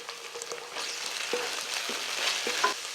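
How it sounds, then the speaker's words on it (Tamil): Onions and ginger-garlic paste sizzle and fry steadily in a hot pan, with occasional scraping and stirring taps from a spoon; no voices. "ஒரு டேபிள் ஸ்பூன் இஞ்சி பூண்டு விழுது நல்லா பச்சை வாடை போகிற அளவுக்கு வதக்கி விட்டுக்கலாம்"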